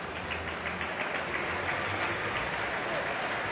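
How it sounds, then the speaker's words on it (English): Crowd applause at a men's foil fencing world championship semifinal, greeting Kyosuke Matsuyama back as the bout resumes; steady, moderate clapping from the hall throughout, with no voices on top. "a very comforting round of applause from the crowd here, welcoming Matsuyama back"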